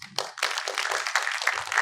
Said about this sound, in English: Let's welcome Shri Sandeep Patil sir on the dais with a big round of applause